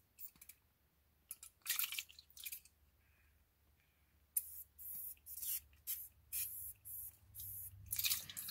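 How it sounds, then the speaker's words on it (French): Aerosol spray can, nearly empty, hissing in short bursts, a few spaced sprays and then a rapid series of quick puffs, close and clear in a quiet room with no talk. "je vais chercher la bombe aérosol"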